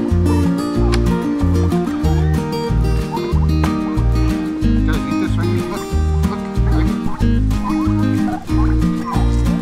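Turkeys on a small farm gobbling repeatedly in loud overlapping bursts, with a dense steady clamor of fowl throughout and no voices.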